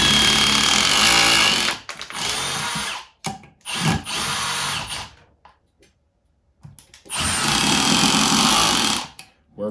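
A power driver sinks a self-tapping screw using a Flex square number 2 bit, in loud sustained whirring bursts broken by short stops and clicks, with one long run near the end.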